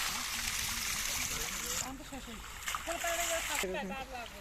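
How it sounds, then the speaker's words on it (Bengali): Feet splashing and sloshing in cold water outdoors near a village: steady close splashing and trickling that grows choppier toward the end, with a voice talking over it. "আমি আগে পা ঠান্ডা পানিতে ভিজাচ্ছি"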